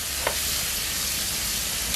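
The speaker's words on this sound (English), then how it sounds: "how quickly that garlic is sizzling away" Garlic sizzling in a frying pan, a steady close crackle and hiss with a couple of brief clinks.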